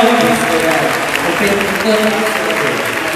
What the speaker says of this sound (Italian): Facciamo un applauso a chi organizza